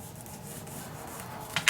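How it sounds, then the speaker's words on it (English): Paper being burnished down by hand on a handmade mini album, a steady soft rubbing that runs close and quiet throughout, ending in a brief sharper scrape. "Burnish it down so it's nice and tight."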